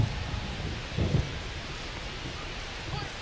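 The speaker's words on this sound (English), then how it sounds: "This rain is not letting up." Rain falling steadily on a baseball stadium in MLB The Show, a constant hiss with brief low rumbles, and no talk.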